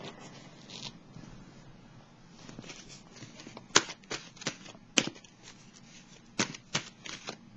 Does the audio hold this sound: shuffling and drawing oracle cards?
yes